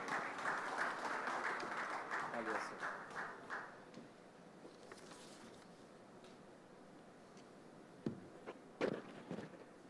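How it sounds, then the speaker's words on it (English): Hall audience applauding at a conference as a speaker comes on stage, lively clapping for a few seconds that fades to scattered claps, with a few louder thumps near the end. "Give him a huge round of applause."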